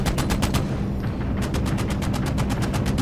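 A B-17 bomber's machine gun fires in a flight video game, two loud rapid bursts of evenly spaced shots separated by a short pause, with no voices.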